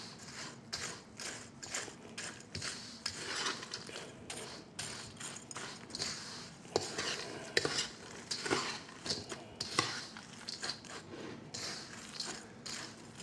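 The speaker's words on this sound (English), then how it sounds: "Stir in there good." Spoon scraping and clinking inside a cup while stirring a mayonnaise-dressed, potato-salad-like mix with hard-boiled egg, a steady run of close, busy taps and scrapes with no talking.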